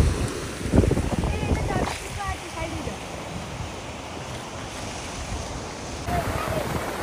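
Sea waves wash onto a beach during an office picnic, a rolling surge with louder swells near the start and end, mixed with wind buffeting the microphone.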